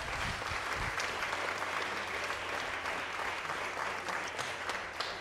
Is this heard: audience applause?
yes